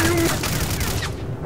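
Shotgun fire in the video game STALKER: Call of Pripyat, a dense burst of loud gunfire and booms filling the whole moment, with no one talking over it.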